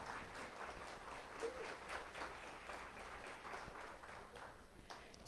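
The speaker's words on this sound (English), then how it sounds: "Let's give a round of applause once again for Dave, Norm, and Kristen." An audience at a business spotlight event on personal branding and entrepreneurship claps for the presenters, with faint, continuous patter-like applause that holds evenly throughout.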